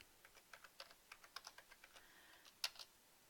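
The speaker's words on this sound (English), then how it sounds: "I'm going to type in the address" Quick, light keystrokes on a computer keyboard as a web address is typed, a string of close, crisp clicks in an uneven rhythm with one sharper tap near the end.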